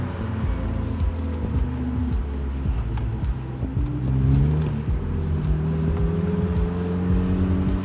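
A Mazda Miata with newly installed frame rail cross braces rounds a roundabout at about 40 km/h, a steady engine drone and road noise heard close from inside, with no talk.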